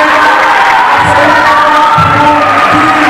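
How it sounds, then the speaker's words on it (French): A loud crowd cheers and acclaims teachers at a school project visit in Bouaké, making a continuous wash of shouting voices and whoops that stays close and strong the whole time. "merci pour acclamer chaque professeur"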